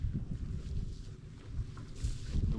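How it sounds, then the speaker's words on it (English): Strong wind gusts across a Highland loch during kayak camping, a steady low rumbling roar with buffeting on the microphone that swells and surges throughout. "The wind is picking up again."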